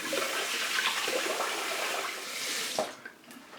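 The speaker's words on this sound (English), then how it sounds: "let me rinse off it" Water splashes steadily as a face is rinsed off after a shave, a close, continuous wash that thins out into a few scattered drips and splashes near the end.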